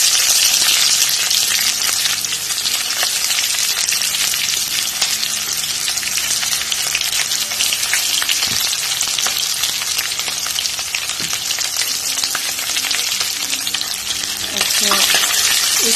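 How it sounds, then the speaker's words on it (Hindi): Mustard seeds, dried chillies and onion frying in hot oil in a village kitchen, a loud, steady, close sizzle with crackle and the occasional scrape of stirring, continuing unbroken with no voices over it. "सरसों डाल दिए, अभी हम यहाँ पर सूखी मिर्च डाल देंगे। उसके बाद डालेंगे ऑनियन।"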